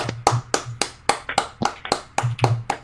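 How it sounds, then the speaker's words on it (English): A few people clap in a small round of applause, about ten sharp, evenly spaced claps close to the mic over a few seconds, with no talking. "Give yourself a round of applause."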